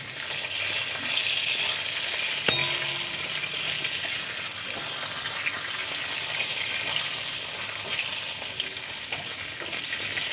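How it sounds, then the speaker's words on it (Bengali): Garlic and slit green chillies sizzle steadily in hot oil while fenugreek greens are being cooked, a continuous close frying hiss with a brief clatter early on and no talking. "রসুন ভালো মতো ভাজা হয়ে গেছে"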